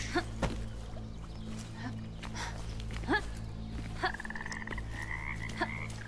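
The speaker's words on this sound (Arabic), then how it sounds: "اوه هذا ضفدع يا حبيبي اللي نطيت عليه" Frog croaks in the video game Bramble: The Mountain King, several short croaks spaced irregularly over a low humming game soundtrack, with no talking.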